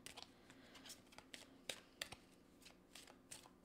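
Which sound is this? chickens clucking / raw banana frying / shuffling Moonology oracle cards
shuffling Moonology oracle cards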